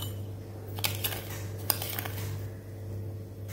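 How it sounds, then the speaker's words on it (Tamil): A spoon clinks against a glass or metal vessel a few times as sugar is added to rose milk, producing sharp, close taps over a low steady electrical hum. "அடுத்தது சர்க்கரை போட்டுக்கலாம்."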